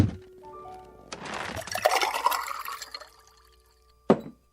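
Water poured from a container for a thirsty man in a radio drama scene, a steady splashing stream for about two seconds, then a short clink or set-down near the end; no talk over it.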